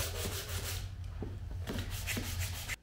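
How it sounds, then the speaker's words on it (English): A car valve cover scuffed with 180 grit sandpaper, heard as close, rhythmic rasping strokes with a brief pause midway before the rubbing resumes, no talking. "All right, so I got it sanded down."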